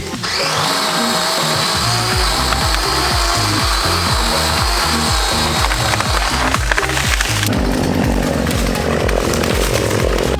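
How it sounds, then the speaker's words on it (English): Chainsaw cutting low-hanging tree branches behind an old farmhouse, a loud close engine roar with a pulsing rhythm that shifts pitch as the chain bites into wood. "We've got to trim quite a few of these low-hanging branches here to get them away from the back of the house"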